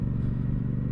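Royal Enfield Super Meteor 650 motorcycle on the move, a steady low engine drone with road rumble, continuous and close, no voices.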